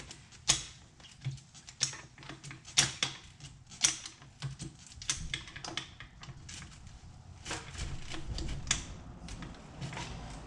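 Short metallic clicks and taps of a wrench working on the rear shock absorber nut of a Ford Fiesta MK6, irregular close-up strikes spaced unevenly, with a low mechanical rumble building toward the end.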